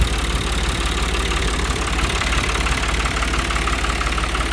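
A Long 350 farm tractor of 35 horsepower idles loudly and steadily, its engine churning in an even, unbroken throb throughout with no talk.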